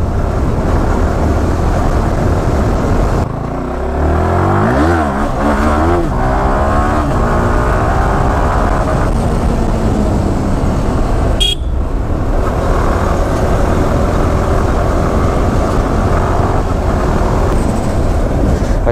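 A Yamaha R15M 155 cc motorcycle rides off-road through sand, its engine droning steadily and loudly throughout, with pitch rising and falling as the rider works the throttle.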